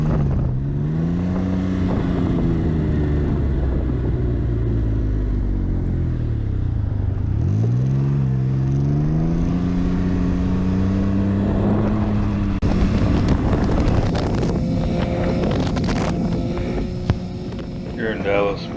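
A 2019 Can-Am Ryker 900 three-wheeler rides beside a lake in strong wind, its engine a steady loud hum with shifting pitch as it accelerates and slows, the drone continuous throughout under heavy wind buffeting.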